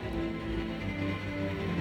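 Music ringing out with the long, washy reverb of a large church, sustained tones blending into a dense, continuous wash at steady loudness throughout.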